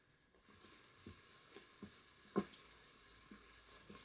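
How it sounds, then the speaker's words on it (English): Oil heating in an Instant Pot, about to take lemon zest, gives a faint, steady sizzle with a few soft clinks and taps from a utensil. "Okay, this is starting to sizzle."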